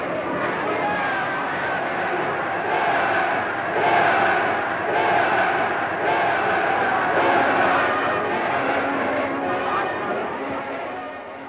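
A large crowd cheers and shouts in archival footage from Rákosi-era Hungary, a dense, steady roar of many voices with rhythmic surges and chanting, heard at a distance and fairly faint.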